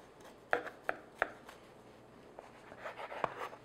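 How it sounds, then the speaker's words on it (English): A knife slicing through a still-warm loaf of chocolate banana bread studded with chocolate chips and nuts, a few soft, sharp cuts and taps on a board, quiet and close. "So now let's cut a slice"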